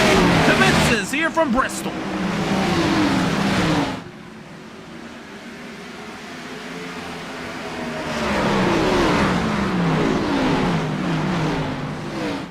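Stock cars racing at Bristol in the iRacing sim, engines roaring loudly and steadily, fading for a few seconds before swelling again, with a commentator talking over them.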